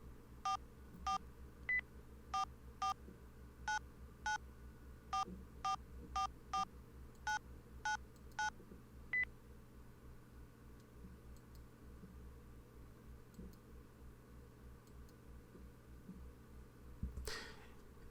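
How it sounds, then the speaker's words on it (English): Cell phone keypad beeps as a message is typed in the visual novel Saya no Uta: a quick series of short dual-tone presses in uneven bursts, then quiet low hum, with one brighter blip near the end. "this time I typed it into the phone"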